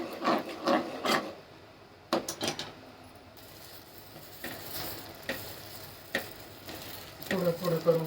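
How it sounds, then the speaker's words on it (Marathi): Caramelized sugar being poured and stirred into reduced milk for kulfi, heard as a soft sizzling hiss under a spoon scraping and knocking against the pan, close and moderately loud with uneven bursts. "आता हे दुधामध्ये ओतून घ्यायचं"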